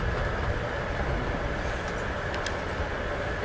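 Train ride ambience in the game Before The Storm: a steady low rumble of rolling railcars, even and constant, with a few faint higher clinks near the end.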